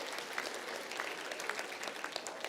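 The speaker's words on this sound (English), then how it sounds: "give your family and friends a round of applause to say thank you" Graduates at a Victoria University graduation ceremony applaud their families and friends, a soft, distant and steady wash of many hands clapping together in a large hall.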